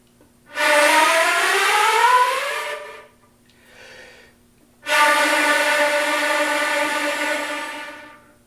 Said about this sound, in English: So if we deliberately try to make that breathy tone, it will sound something like this.